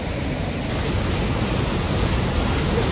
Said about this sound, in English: with the power of this waterfall